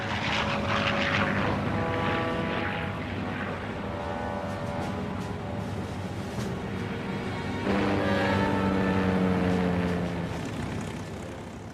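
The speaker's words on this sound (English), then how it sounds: "one by one, the bombers lumbered down the flight deck and clawed their way off" B-25 Mitchell bombers take off one by one from the flight deck of the aircraft carrier Hornet, a loud, continuous roar of piston engines and propellers that swells near the end with a rising engine tone.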